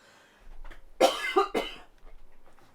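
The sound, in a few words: cough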